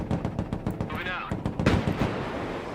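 Rapid machine-gun and rifle fire from units in the real-time tactics game Broken Arrow, dense bursts of shots rattling loudly under someone talking excitedly in Thai.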